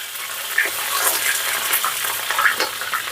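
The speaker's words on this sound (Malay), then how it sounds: "Minyak dah panas sangat. Masukkan halia, lengkuas, serai, daun salam." Ginger, galangal, lemongrass and bay leaves frying in very hot oil, a steady close crackling sizzle with small pops and spits throughout, no voices.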